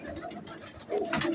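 A female Teddy pigeon coos close by, a soft low murmur that swells louder toward the end of the short stretch, with no one speaking.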